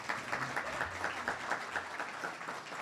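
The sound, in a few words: applause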